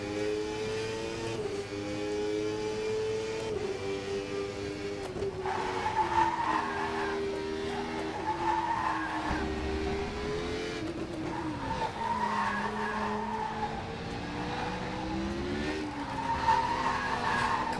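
Tyres squeal and skid continuously in the sim racing game Assetto Corsa Competizione, a loud wavering whine over the steady drone of a race car engine throughout, with no talking.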